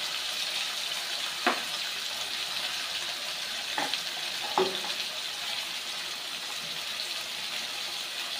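Cumin and coriander paste sautés in a pan for a rohu fish curry, a soft steady sizzle with a few sharp utensil clinks scraping against the pan.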